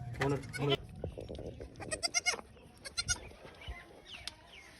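A goat that has just given birth to kids bleats several times in short, close calls, mixed with people talking nearby and some rustling.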